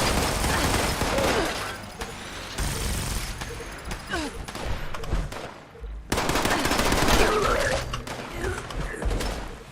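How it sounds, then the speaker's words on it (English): Gunfire in Fallout 76: loud, rapid machine-gun bursts and scattered shots in quick succession, with brief pauses and a voice speaking now and then. "Who's shooting?"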